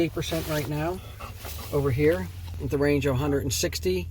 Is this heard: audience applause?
no